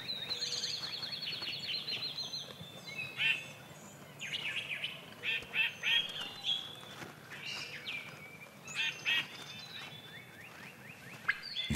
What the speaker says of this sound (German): All das gehört zum Balzritual der Truthähne und vor allem das typische Rufen, das Gobbeln.